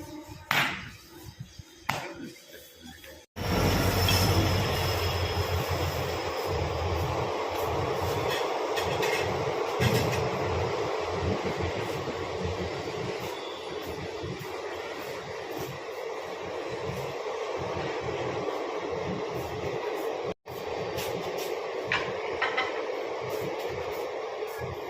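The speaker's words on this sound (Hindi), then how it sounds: "उधर से शायद ट्रेन आ रही है मेरी।" A train draws near and rolls past, a loud, steady rumble of rail cars running for most of the stretch, briefly cut once before resuming.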